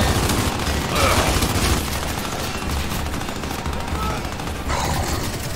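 Sustained video-game gunfire from Gears 5 co-op play, dense rapid shots and booms running continuously across the clip at steady loudness, with no clear talk over it.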